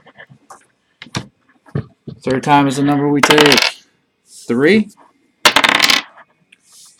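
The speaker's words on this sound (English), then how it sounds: "I'm going to roll the dice three times." Dice rattle and clatter in short sharp bursts during a baseball card box break, and a voice talks between the rolls.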